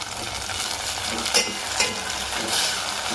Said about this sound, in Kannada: ಇದಕ್ಕೆ ನಾನು ಟೊಮೆಟೊ ಒಂದನ್ನು ಹೆಚ್ಕೊಂಡಿದ್ದೆ ಸೊ ಟೊಮೆಟೊ ಹಾಕ್ಕೊತಾ ಇದ್ದೀನಿ